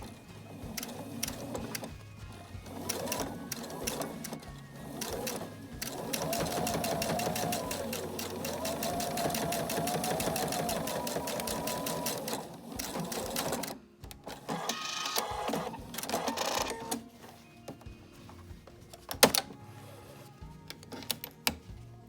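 A sewing machine stitches a placket in fabric, running in long steady bursts with a rapid mechanical whir and needle clatter, pausing and restarting, then brief handling noises near the end.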